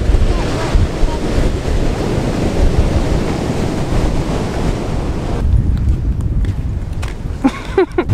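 Ocean waves surge and wash ashore continuously, a dense roar of surf with wind buffeting the microphone throughout, the seawater muddied by stormwater runoff after a night of heavy rain.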